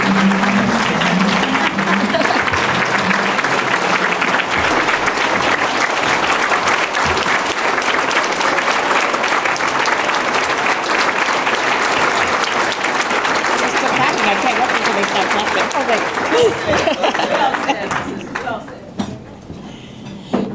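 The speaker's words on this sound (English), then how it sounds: "they're still clapping" Sustained, dense audience applause after a speech on making Chicago a world-class city, loud and steady for most of the stretch before thinning out near the end, with scattered voices mixed into the clapping.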